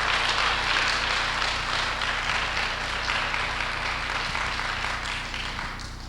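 Church congregation applauding during a sermon, dense continuous clapping from many hands that holds steady and then slowly fades toward the end.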